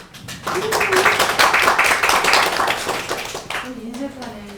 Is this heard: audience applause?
yes